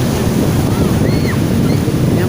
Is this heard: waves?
yes